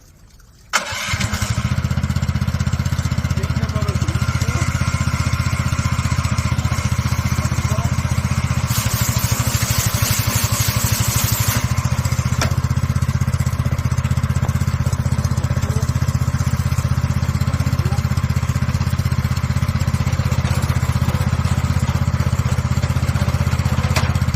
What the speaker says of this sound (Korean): 이때 브러쉬를 작동을 하시면 눈을 쓸면서 지나가게 됩니다